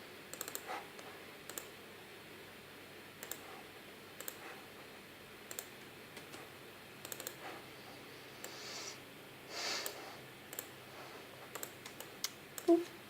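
Faint, sparse clicks of a computer keyboard being tapped while using Adobe Illustrator, single keystrokes spaced irregularly over a quiet room hiss, with a couple of soft rustles.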